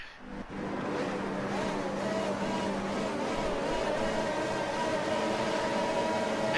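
F1 cars in the F1 2019 video game pulling away at the start of the Bahrain Grand Prix, a dense, steady engine roar holding loud and unbroken throughout.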